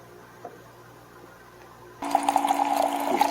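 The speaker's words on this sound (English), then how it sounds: "I'm adding my espresso." Espresso pours from a Nespresso Vertuo Pop+ machine into a drink already holding heavy cream and caramel syrup. A soft background hum gives way to a sudden, steady, close splashing stream that keeps running to the end.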